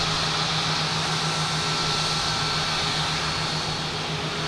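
An airplane at Boston Logan Airport, a loud, steady broadband engine roar with a constant low hum that stays even throughout, with no talking.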